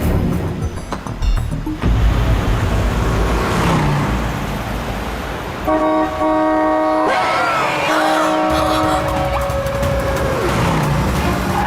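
A car engine roars and the vehicle pulls away fast along a road, a loud sustained rush of motor and road noise with tonal music layered over it partway through.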